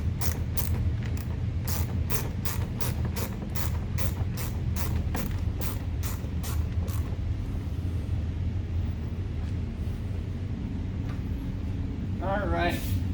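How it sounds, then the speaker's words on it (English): A ratchet wrench loosens a bottom screw holding a plastic piece on a Chevrolet Corvette (2014–2019 generation) during a mud flap install, with a rapid string of close clicks over a steady low background hum. "we're going to go ahead and remove the screw on the bottom here"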